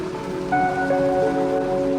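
Heavy monsoon rain in Mansa district, Punjab, a dense steady hiss of downpour with a drawn-out tonal hum running through it, continuous and fairly loud with no talking.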